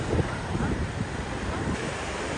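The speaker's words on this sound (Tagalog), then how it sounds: "Maalon po ngayon." Rough sea waves break at Dinahican beach, a dense, continuous roar of surf mixed with heavy wind buffeting the microphone, loud and steady throughout with no voices.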